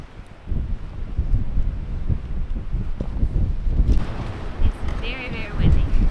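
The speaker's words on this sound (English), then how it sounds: "It's very, very windy." Strong desert wind buffets a campsite in the California desert, a loud continuous rumbling roar that swells toward the end, with a voice speaking through it.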